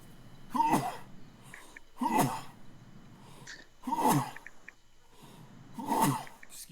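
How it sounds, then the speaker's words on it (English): A man sneezes loudly and explosively four times in a row. Each burst comes about two seconds after the last, with quiet gaps in between. "I just sneezed"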